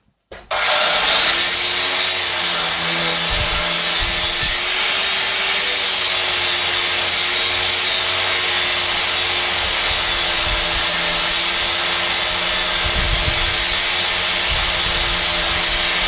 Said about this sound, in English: widen the gap again. There, with this grinder.